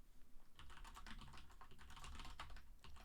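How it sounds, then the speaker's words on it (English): Quick, steady typing on a computer keyboard, with rapid light keystrokes running almost without pause. The clicks are close but soft, and there is no talk. "you saw me type in the word actuated"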